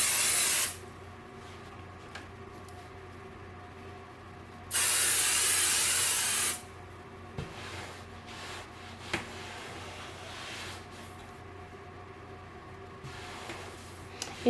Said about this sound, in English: we're just going to spray it on the back of it.